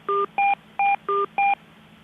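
Telephone keypad tones on a conference call line: five short, clear beeps at an even, quick pace, each a clean paired tone with brief silences between, over a low line hum.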